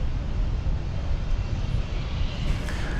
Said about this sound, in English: American Flight 389 to Mexico City is what I believe we are seeing turning around there. It's a 737-800.